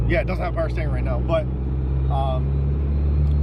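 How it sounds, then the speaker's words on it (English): A Plymouth Spirit R/T with an SRT-4 engine swap, running on E85, drones steadily while driving. Someone talks briefly over the low, constant engine hum. "You can hear the car sounds like a freaking jet."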